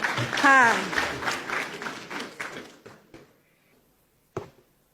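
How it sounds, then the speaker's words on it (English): An audience at a northwest peace and security summit claps for a governor, a burst of applause mixed with a voice that thins into a few scattered claps, followed by quiet and one sharp knock. "Clap for my governor"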